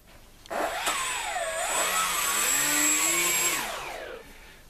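Twin electric motors on a cheap Lidl chuck-glider conversion with a twin fuselage spin up for a rolling test, giving a buzzing, whining drone with wavering pitch that rises, holds for about three seconds, then winds down.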